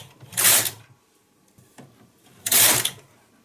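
A knitting machine carriage pushed across the needle bed for a row of fringe trim: two brisk mechanical clattering swishes about two seconds apart, close, with a faint clack between them.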